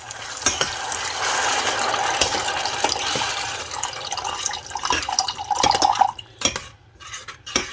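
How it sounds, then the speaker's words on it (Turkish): Water poured into a sauce in a cooking pot for çökertme kebab and set to boil, with a steady watery rush, clinking of a utensil against the pot and a few sharp knocks near the end. "Suyunu ilave edip kaynamaya bırakıyoruz."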